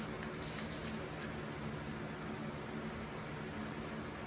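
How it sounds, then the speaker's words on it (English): Steady broadband whoosh of an electric fan running indoors in a crafting room, a constant even hiss with no talk over it. "Hopefully the fan isn't too annoying if you can hear it"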